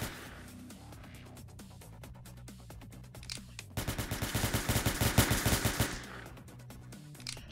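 A rapid automatic gunfire burst rips through walls in the video game Entry Point, a loud, dense rattle of shots lasting about two seconds after quieter clicks and thuds.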